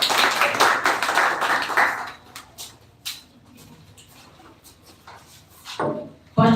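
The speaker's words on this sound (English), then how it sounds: "So please welcome with a huge round of applause, Mr. Prince Siva." Applause from an audience at a school speech event, a loud burst of clapping for about two seconds that fades into scattered claps and quiet room noise, with another short burst near the end.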